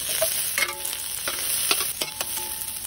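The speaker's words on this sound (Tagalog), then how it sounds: "igisa na po natin sa ating bawang, luya at ang ating sibuyas" Duck pieces sautéing with garlic, ginger and onion make a steady close sizzle, broken by short clinks and scrapes from stirring, with no voices.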